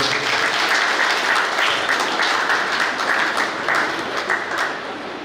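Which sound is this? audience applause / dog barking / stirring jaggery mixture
audience applause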